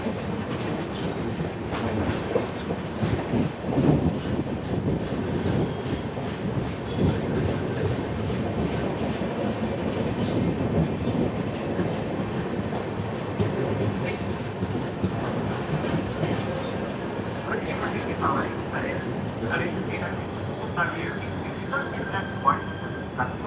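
The 12702 Hussainsagar Express running on rails near Begumpet on the Hyderabad–Mumbai route, a steady rumble with rhythmic wheel clatter and occasional squeals, heard from inside the coach with voices talking in the background.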